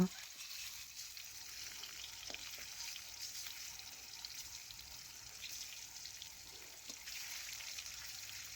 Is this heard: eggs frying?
yes